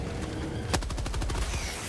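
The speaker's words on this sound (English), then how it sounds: "Oh, the recoil on the mini machine gun's interesting." Mini machine gun fire in the video game Helldivers 2, a rapid burst of sharp shots starting partway in and continuing in quick succession over a low, steady game background.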